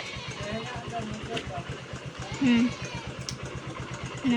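A motorcycle engine starts and settles into an idle, a steady low rhythmic putter that carries throughout while people talk nearby.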